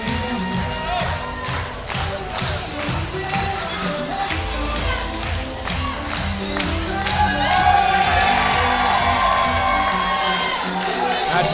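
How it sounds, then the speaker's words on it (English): A wrestling crowd in Miami cheers and shouts loudly and continuously, the roar swelling toward the end, with an announcer's voice talking over it. "And he thinks the Miami fans here can do one better, Dan."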